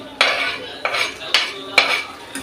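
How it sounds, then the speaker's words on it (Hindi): Chopped tomatoes being stirred in a cooking pot for chana chole, four sharp spoon-on-metal scrapes in an even rhythm, close and clear, no voices. "इसको अच्छे से एक मिक्स दे देंगे"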